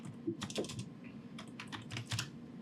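Computer keyboard keys click in a short, quiet burst of a few quick presses close to the microphone, with no talking.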